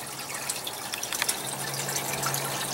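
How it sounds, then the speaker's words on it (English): Water flows steadily through an aquaponic greenhouse flood-and-drain system, a continuous gushing trickle with scattered drips and bubbling splashes, close by and uninterrupted, with a faint low hum beneath. "The garden is doing its flood and drain thing quite happily"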